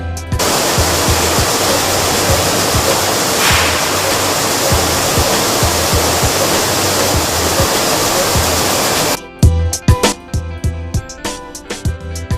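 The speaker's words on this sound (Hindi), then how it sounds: "इस सिस्टम में गेहूं को साफ पानी से धोया जाता है" Heavy steady rush of clean water in a wheat washing system at a flour mill, a dense roaring wash that runs continuously for about nine seconds before stopping abruptly into quieter mechanical clatter.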